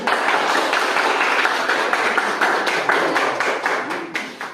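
Children clap their hands in a lively, fairly even rhythm for several seconds, a dense group clatter in a classroom setting that tapers off at the end.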